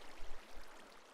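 Flowing water placed in the Minecraft video game, heard as a soft, steady rushing hiss with low rumbling swells, quiet and continuous with no talking.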